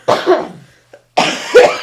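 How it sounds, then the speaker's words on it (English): Two bursts of harsh coughing sound close and loud, separated by a brief pause. "we made each other cough"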